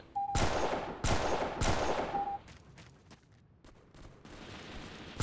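Gunfire in the video game Delta Force Xtreme: three sharp, loud shots spaced about a second apart, followed by quieter scattered distant reports and faint crackles.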